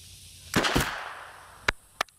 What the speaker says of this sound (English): You just gotta squeeze the trigger. Don't jerk it. You'll feel a little kick.